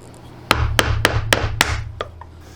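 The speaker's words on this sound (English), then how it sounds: "Now to get a nice, crisp, straight edge, I chose to use my chisels with a paring block." Chisels paring a crisp, straight wood edge against a paring block: five sharp, evenly spaced knocks up close, then one fainter tap, with no voices.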